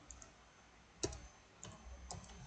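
Quiet clicks of a computer keyboard as text is typed into a Photoshop birthday flyer design, a few sparse keystrokes, soft and close with no talking.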